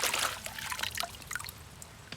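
Small splashes and sloshing water from a toy monster truck shaken in water, busiest at the start, then trailing off into scattered drips and trickles.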